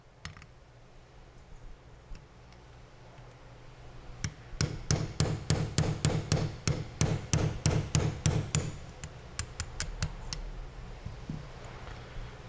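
A hammer strikes a punch to drive out pins, a run of sharp metallic blows in a quick steady rhythm that builds then slows, with scattered lighter taps.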